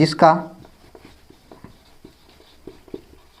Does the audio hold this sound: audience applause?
no